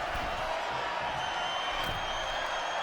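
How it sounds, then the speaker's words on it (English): Broad, steady crowd roar from a WWE 2K25 wrestling arena, a dense wash of cheering and noise sustained at moderate loudness throughout, with faint thuds underneath. "And now she's feeling the energy from the crowd."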